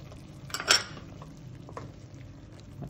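Tomato chutney with green chili and coriander being stirred in a pot, a brief clatter of a utensil against the vessel near the start, then quiet scraping.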